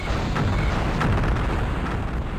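Crater of Might weapon explosion in the Hexen 2 video game, a dense, sustained roar of booming blasts and rumble that stays loud and steady throughout, with no talk.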